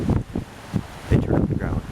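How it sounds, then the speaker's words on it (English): Gusty wind buffets the microphone outdoors on a blustery day in a grassy Saginaw, Michigan yard near groundhog holes, rising and falling in uneven rumbling bursts up close. "It is a very windy day here"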